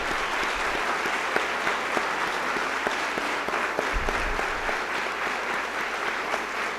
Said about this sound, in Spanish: a los cuales les pido un fuerte aplauso.